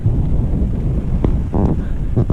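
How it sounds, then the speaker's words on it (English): Steady rumbling storm wind at a lakeside campsite near Granite Peak buffeting the microphone, with low gusty roar and a few faint distant knocks, no voices. "we got a pretty good storm going on right now."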